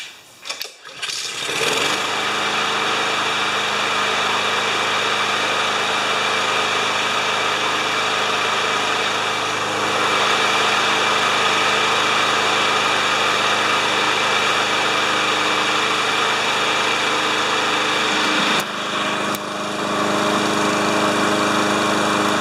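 A rough-running Honda GCV160 lawn mower engine catches after a brief sputter and settles into a steady, loud, continuous drone, alone with no talk, with a short dip and uneven stumble near the end.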